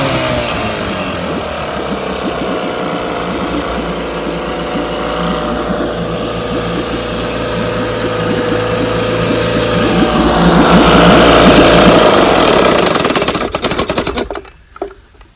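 Restored Evinrude outboard boat engine running during a barrel test, a loud, close, rapid rattling drone that swells louder near the end before cutting off abruptly.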